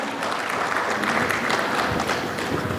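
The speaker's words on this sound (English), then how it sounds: "Let's keep the applause going for everyone." An audience at a corporate hiring panel discussion applauds the panelists, a steady dense wash of many hands clapping at moderate distance that holds evenly throughout.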